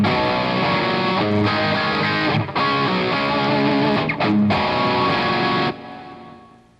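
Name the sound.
guitar playing the two chords of a song bridge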